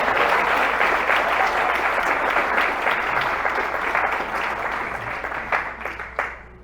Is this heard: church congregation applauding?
yes